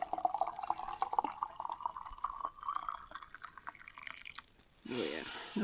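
Near-boiling water topped up into a Nalgene bottle at a stealth camp, a steady bright trickle running for several seconds before stopping, followed by a short muffled clunk.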